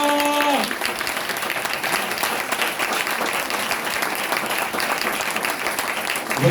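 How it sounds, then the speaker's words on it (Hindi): A church congregation claps in praise for Jesus' cross, a dense, sustained burst of applause that stays loud and even throughout after a voice trails off at the start. "आए जरा भरपूर तालियां यीशु की सलीब के लिए।"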